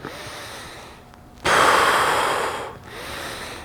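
A deep, forceful inhale taken during a dumbbell raise, a close breathy rush that swells suddenly after a quieter stretch, holds for about a second, then fades into softer breathing.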